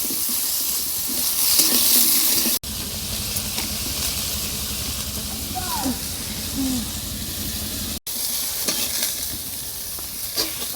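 Pointed gourd (potol) frying lightly in a pan with turmeric, a steady continuous sizzle with occasional stirring scrapes, close and moderately loud, two brief dropouts, no talking.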